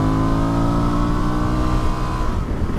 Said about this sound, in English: Even with this stock exhaust, that engine's got a nice little growl to it, doesn't it?